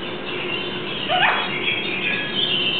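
Alexandrine parakeet giving one short rising squawk near the mic over steady background hiss, otherwise quiet.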